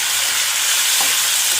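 Potatoes fry in a pan for aloo bhaja, giving a dense, steady sizzle that stays loud and close throughout, with no one talking.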